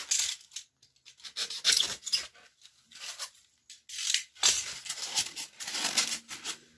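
A knife cuts through expanding foam shaped into a tabletop wargaming hill, giving close, scratchy crunching and tearing strokes in uneven bursts with short pauses between them.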